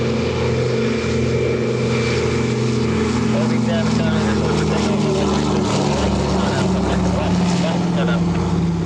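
A P-51D Mustang warbird roars loudly and continuously on its takeoff roll at the EAA AirVenture 2025 airshow, with its propeller engine droning under a commentator's voice.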